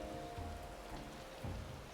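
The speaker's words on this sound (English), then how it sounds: "It's still raining, by the way, in game." Soft, steady rainfall in the game Final Fantasy XIV, a faint continuous hiss with scattered drops and a low hum beneath, ending in a short louder thump.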